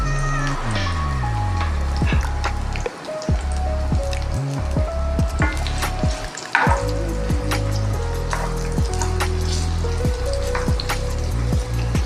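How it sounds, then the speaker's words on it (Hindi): Onions dropped into a hot pan sizzling on a low flame for tomato chutney, a dense continuous crackle and spatter of popping oil heard up close, with no voices. "अब हम इसमें प्याज डाल देंगे।"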